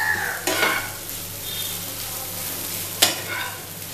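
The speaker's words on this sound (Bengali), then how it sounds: "এবার এই কিমার সাথে নুডলসটা জাস্ট মিশিয়ে ফেলতে হবে" Boiled noodles are stirred into minced keema in a hot pan, a soft steady sizzle broken by two sharp scraping strokes of a spatula, close and without talk.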